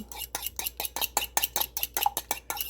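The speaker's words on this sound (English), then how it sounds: "Salt and pepper to taste, then mix it up." Eggs with milk, salt and pepper are whisked in a bowl, a brisk regular clatter of utensil on bowl, about ten strokes per couple of seconds, close and clear.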